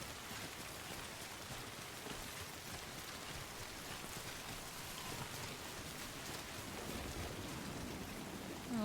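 Constant rainfall in the Death Stranding game world, a broad unbroken wash of drops pattering on surfaces, loud and close throughout, with no voices over it.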